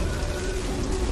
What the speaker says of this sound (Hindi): अंधेरा हो चुका था और बरसात और भी ज्यादा तेज हो रही थी।